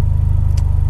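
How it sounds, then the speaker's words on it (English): Mitsubishi Evo X with a new turbo, cold and stopped at idle, rattling away in a steady, loud low-pitched engine drone with a brief hiss midway. "hopefully you can still hear me talk while the engine's rattling away there, while I'm stopped"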